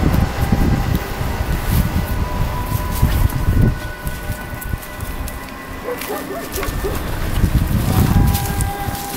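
Strong wind buffets the microphone in heavy, rumbling gusts that rise and fall, with brief faint voices in the background.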